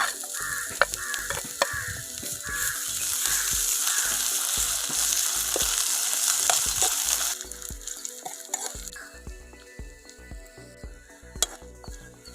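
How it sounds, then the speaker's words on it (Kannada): Dry fish (karimeen) fries in a pan with a bright, steady sizzle, punctuated by repeated scraping and stirring knocks of a utensil against the metal, close and loud, easing toward the end. "ಕರ್ಮೀನು ಹಾಕ್ತಾ ಇದ್ದೀನಿ. ಕರ್ಮೀನು ಸ್ವಲ್ಪ ಫ್ರೈ ಆಗಬೇಕು."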